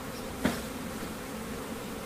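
Honeybees shaken from a brood frame into a container buzz in a dense, continuous drone, close and steady, with one brief thump near the start.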